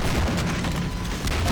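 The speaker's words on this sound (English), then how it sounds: "There's so many explosions." Explosions going off in Half-Life 2 amid city fighting, a dense continuous rumble of booms and blasts with gunfire-like bursts, loud and sustained without any talk.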